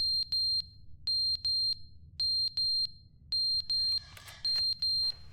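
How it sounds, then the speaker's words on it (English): A fire alarm in the video game The Stanley Parable rings in rapid, evenly spaced electronic beeps, grouped in repeating bursts of three with short gaps between. "Was this a fire alarm?"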